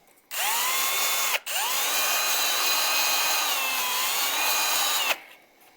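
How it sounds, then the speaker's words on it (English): A power drill spins a homemade sandpaper spindle clamped on a quarter-inch rod, whining up to a steady high pitch, briefly cutting out and restarting, then running evenly before stopping abruptly; close and loud, no talking. "Throw it in a drill and see if it does anything."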